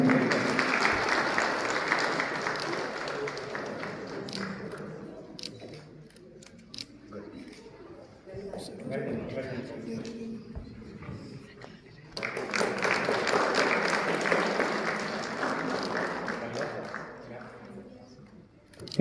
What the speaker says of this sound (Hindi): इनका जोरदार ताली के साथ स्वागत करते रहिए और इनका हौसला अफजाई करते रहिए।